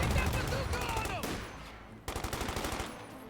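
Bursts of Thompson submachine gun fire in the World War II strategy game Company of Heroes 2, rapid rattling volleys that fade, pause briefly, then return loud and close.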